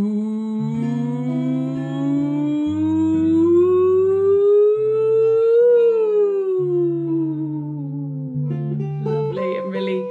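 A voice glides slowly upward and back down in a smooth siren-like sweep, imitating a siren over a steady low backing tone, loud and close.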